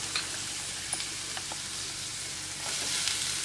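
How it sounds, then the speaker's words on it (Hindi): Chopped garlic fries in oil as it is mixed in for an onion, garlic and tomato pizza sauce, giving a soft, even sizzle with faint occasional taps of a spoon, continuous and fairly quiet. "साथ ही मैं इसमें गार्लिक डाल दूंगी और मिक्स कर देती हूँ, तो साथ में गर्म भी होगा और गार्लिक भी भूनता जाएगा।"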